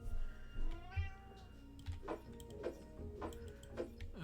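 A cat meows near the start, one rising, drawn-out call, followed by several evenly spaced ticking clicks.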